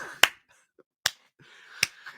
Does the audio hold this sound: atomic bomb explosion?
no